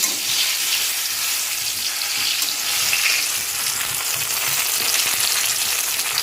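Eggplant frying in hot oil, a loud continuous crackling sizzle heard close up, even and unbroken, with no voices.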